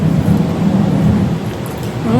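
Heavy typhoon storm with a steady roar of rain and low rumbling thunder in a coastal surfing town, loud and continuous throughout.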